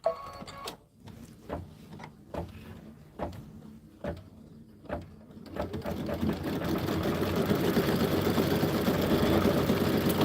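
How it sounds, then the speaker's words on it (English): Embroidery sewing machine stitching a tack down and placement stitch for a turkey design, a steady mechanical needle rhythm of regular thumps that turns into a continuous loud whir, alone without talk. "it's going to do the tack down. And then it's also going to do the placement stitch for your turkey."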